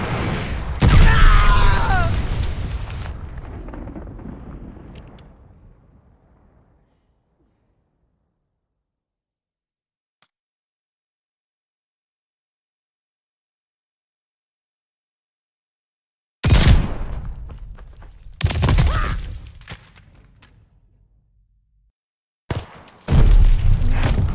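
Heavy booming blasts from an incoming bomb in Call of Duty Vanguard multiplayer, one long rumbling explosion fading out, then after a long silence several more loud bursts in quick succession.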